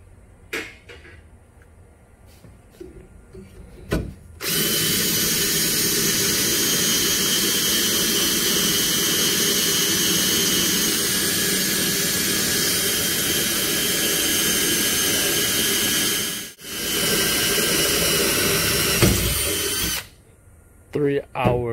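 A power drill bores a quarter-inch hole fully through a metal bar and its mount, part of a handle safety modification on a Thai longtail mud motor; the steady, loud whine runs for about fifteen seconds, pausing briefly once, with quiet workshop sounds before and after.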